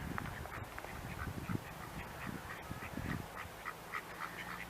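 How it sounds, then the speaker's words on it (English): Ducks quacking in the grounds of Crystal Palace park, a series of nearby raspy quacks in irregular bursts over faint outdoor background. "Hey, ducks."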